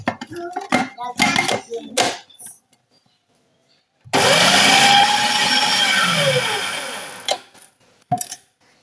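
A kitchen blender whirs loudly for about three seconds while blending a cake-style batter of butter or margarine and small eggs in a family kitchen, with people talking briefly before and after the run.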